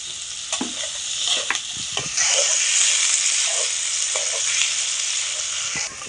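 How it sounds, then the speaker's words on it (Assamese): Onions for a pork curry frying in a pan produce a loud, dense hiss. Close spoon scrapes and clicks come through early, then the sizzle swells into a steady roar, and no one speaks. "পিঁয়াজখিনি পূৰা ৰঙচীয়াকৈ ভাজি ল'লে"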